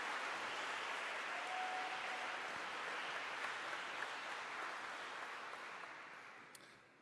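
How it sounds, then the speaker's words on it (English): A conference audience at a 2024 welcome session applauds, steady sustained clapping filling the room at full strength and tapering slightly toward the end. "Let's give them another round of applause"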